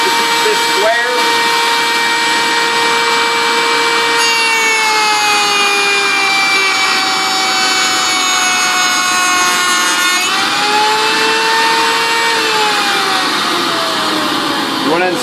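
An old ETM 1120 machine cuts a rabbet joint in wood, guided by an angle block, giving a loud, continuous, high-pitched whine with a steady rough grind that shifts pitch slightly partway through.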